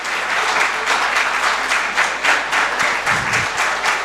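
A crowd at a mushaira at the Karachi literature festival applauds a poet, loud sustained clapping with a slight rhythmic swell, continuous for several seconds with no voices over it.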